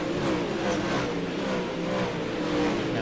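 Pro late model race cars racing at Limaland, a continuous roar of engines at steady high revs with no break, filling the air at moderate distance.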